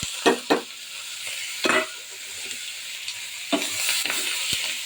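Pangas fish frying in a pan makes a continuous sizzle. Several distinct scraping and clattering strokes from stirring come close by, and there is no speech.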